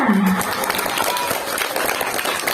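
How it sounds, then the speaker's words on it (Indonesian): Applause from a gathering at an Isra Mi'raj religious sermon event, given for the neighbourhood head. Many people clap in a brisk, scattered patter, with a voice heard briefly at the start. "Mana tepuk tangannya buat Bapak RT kita"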